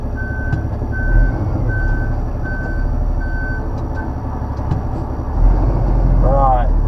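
A lorry in the UK backs out of a tight spot, its reversing alarm sounding six steady, evenly spaced beeps over a loud, constant diesel engine rumble.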